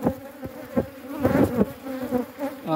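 Native honeybees buzz around a hive, a steady, close drone with rising and falling swells as individual bees pass near.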